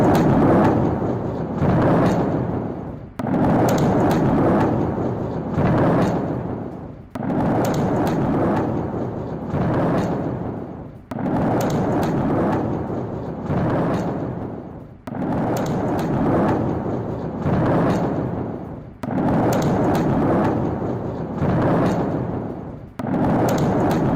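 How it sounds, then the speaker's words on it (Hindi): Repeated deep booming blasts, roughly every two to three seconds, each a loud broad rumble that swells and fades, continuing throughout with no voices. "मिसाइलों में विस्फोट से कैसे पूरा आसमान चकाचौंध हो गया"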